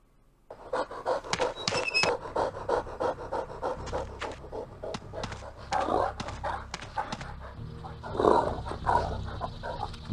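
Dogs in the video game Warcraft Adventures pant heavily and rhythmically, a close, continuous breathy huffing with a few louder gusts and growly breaths.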